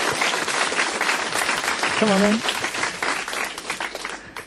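An audience claps steadily throughout, applauding a performer at a public gathering, with a voice briefly speaking over the dense applause near the middle.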